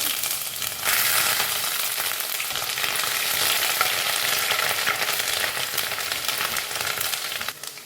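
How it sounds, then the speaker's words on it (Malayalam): Crushed garlic and ginger frying in hot oil for a chicken thoran give off a loud, steady sizzle and crackle that starts abruptly and holds for several seconds, with no voices over it. "ഇതിലേക്ക് വെളുത്തുള്ളി ചതച്ചത് ഇട്ട് കൊടുക്കാം ഇഞ്ചി ചതച്ചത് ഇട്ട് കൊടുക്കാം"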